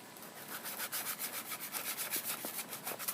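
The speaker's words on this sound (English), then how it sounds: "Then just mix that thoroughly." Fluffy slime being mixed with shaving cream gives a soft, rhythmic squishing and rubbing, repeated strokes close by and fairly quiet, with no talking.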